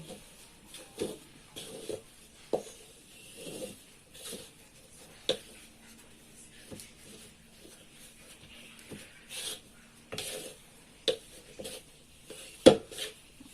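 A spatula scrapes and taps against a metal wok, clearing flour, in scattered strokes with sharp clinks now and then, fairly quiet and close.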